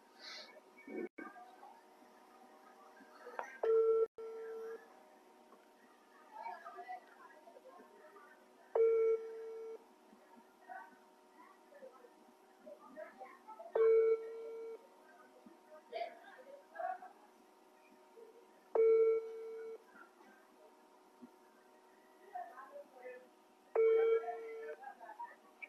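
Outgoing phone call ringback tones, a steady repeating beep roughly every five seconds, thin and moderately loud, with faint line noise and brief murmurs between rings.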